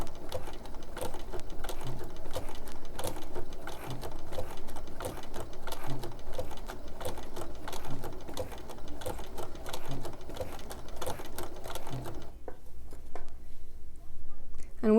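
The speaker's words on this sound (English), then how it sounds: "I am sewing along in real time here" A sewing machine runs continuously while stitching a quilt block in steady real-time piecing, its rapid mechanical patter loud and close; the motor stops briefly near the end.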